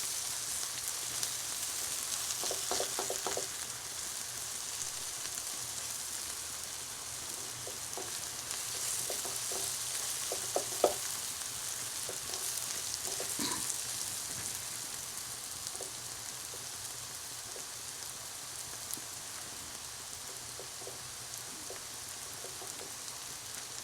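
Onions fry in a pan for a roast chicken dish, a steady soft sizzle with occasional stirring scrapes and light clinks, close and continuous without voices.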